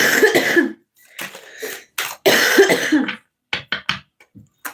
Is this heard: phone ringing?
no